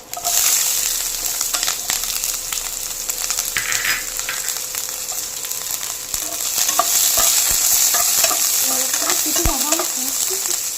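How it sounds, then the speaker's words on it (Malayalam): Continuous crackling and spattering of mustard seeds popping in hot oil, loud and close, with occasional sharper pops and scraping near the end. "കടുക് പൊട്ടി വരുന്നുണ്ട്."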